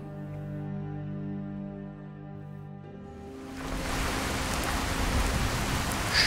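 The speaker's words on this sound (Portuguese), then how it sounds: "Chovendo a beça." Steady rain falling in the video game Skyrim, a dense hiss that swells in about halfway through after a stretch of soft sustained music tones and then continues loud and even to the end.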